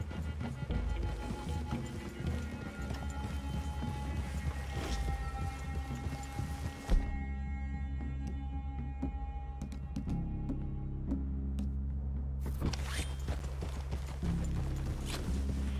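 Horse hooves clip-clop steadily at a trot in Red Dead Redemption 2, over a low ambient hum, the rhythm pausing briefly midway before resuming.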